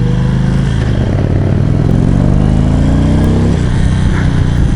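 Indian Vintage motorcycle engine on a test ride, a steady loud droning rumble with rising harmonics as it pulls through the revs, continuous for the whole stretch with no talk.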